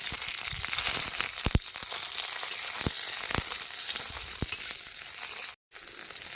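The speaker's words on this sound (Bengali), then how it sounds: "তেলের মধ্যে দেবো মুখ চিরে হ্যাঁ বেশ কয়েকটা কাঁচা লঙ্কা" Slit green chillies fry in mustard oil in a pan at an outdoor village-style riverside cook-out, giving a continuous bright sizzle with a few sharp spatters and stirring clicks and a brief dropout near the end.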